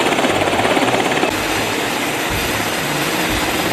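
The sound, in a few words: helicopter hovering over a ship and landing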